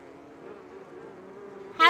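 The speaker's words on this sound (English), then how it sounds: "This is supposed to be my top secret bee reserve." Steady, droning buzz of bees at a bee reserve, a continuous close hum that holds evenly before a sudden louder burst at the very end.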